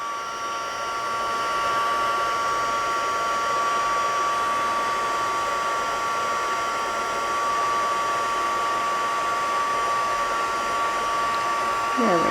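A heat embossing tool blows hot air in a steady, loud, continuous whoosh with a faint whine, used on a hardwood faux illusion craft project and running alone for the whole stretch.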